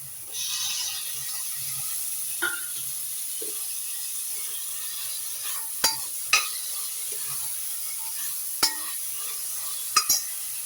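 Tomatoes going into a hot frying pan for egg biryani and being stirred, giving a low steady sizzle broken by several sharp scraping clacks of a spoon against the pan, with no talking.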